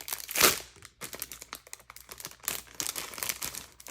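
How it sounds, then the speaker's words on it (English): Crinkly plastic packaging around a Concord and 9th Happy Mail embossing folder being handled close up, with a loud crumple at the start followed by irregular rustles, taps and crackles, no voice. "This is Concord and 9th Happy Mail embossing folder."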